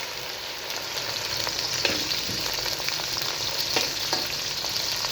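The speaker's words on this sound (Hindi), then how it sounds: "सबसे पहले हम भिंडी को कर लेंगे फ्राई।" Halved okra frying in cooking oil in a pan on a stove, a dense continuous sizzle with occasional soft stirring scrapes, steady and close, no talking.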